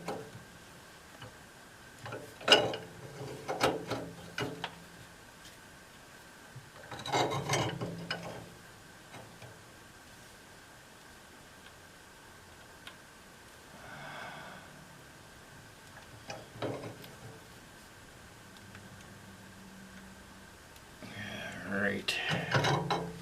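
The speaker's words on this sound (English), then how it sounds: "Here's a trusty pipe wrench." A pipe wrench tightens a fitting onto a pipe during a house repair, producing bursts of ratcheting metal clicks and scraping grinds in several separate bouts, fairly close with quiet gaps between.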